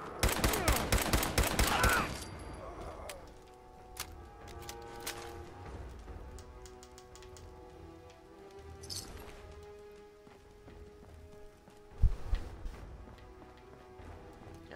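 A dense, loud burst of rapid gunfire from a player's upgraded but weak gun in Fallout 4 fills the first two seconds, followed by quieter game ambience, a few scattered shots and one sharp report near the end.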